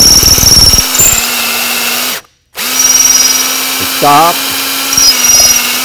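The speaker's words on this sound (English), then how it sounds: "you can start drilling" A power drill bores a deep hole into the wooden forefoot and stem of an ORCA boat build, whining loudly and steadily up close, stopping briefly and then resuming, with a short spoken word between runs.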